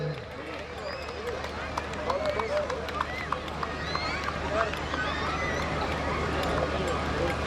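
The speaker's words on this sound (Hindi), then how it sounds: "जोरदार तालियां बजाइए आपके लिए।" Loud audience applause at an IMA Dussehra and Dandia Raas gathering as a doctor is honoured, a dense steady crowd clapping over murmuring voices and background music throughout.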